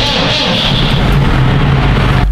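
A loud farm tractor engine turns over and settles into a steady low rumble, close by and continuous for a couple of seconds.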